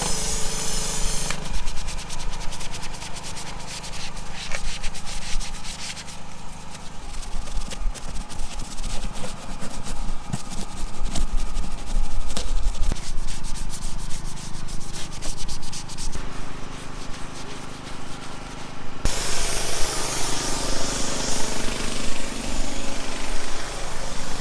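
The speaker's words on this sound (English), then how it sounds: "now we're gonna scrub it now" Body of a 1989 Volvo 480 being scrubbed during a wash, a continuous close rubbing and scouring that swells and eases in long passes, with a brief broadband hiss near the end.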